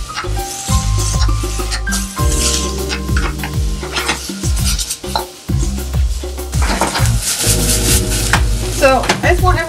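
Minced garlic frying with onions in a pan. A loud close sizzle runs throughout, broken by repeated scraping and stirring strokes of a utensil against the pan.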